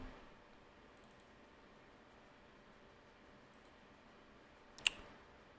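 A single sharp mouse click sounds near the end, close and crisp, after several seconds of faint near-silence while OBS recording software is in use on a computer.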